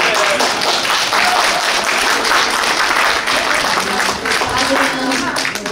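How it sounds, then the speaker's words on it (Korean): A crowd at a Korean community Liberation Day celebration in Sydney applauds steadily and loudly for several seconds, a dense wash of clapping with some voices mixed in. "아주 잘했어. 박수."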